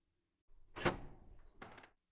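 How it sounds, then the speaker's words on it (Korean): A room door in a mansion opening, staged as an audio drama effect: a brief creaking swing followed by a softer closing thud, close and isolated against silence. "방문을 열고 들어가니"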